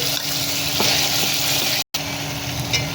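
Masala paste of ginger, small onions and coconut fries with mushroom curry in a pan, a steady dense sizzle with occasional stirring scrapes, close and continuous.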